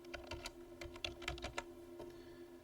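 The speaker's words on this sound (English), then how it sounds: "enter Wiley." Typing on a computer keyboard while entering text into an Excel spreadsheet, a quick run of soft, close key clicks in an irregular rhythm with no talking.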